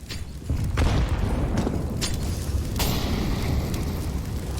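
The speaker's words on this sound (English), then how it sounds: "Nice set of grenades." Grenades explode in a Counter-Strike: Global Offensive match on the Train map, a series of heavy booms and sharp bursts over a constant dense rumble of game noise, loud and close.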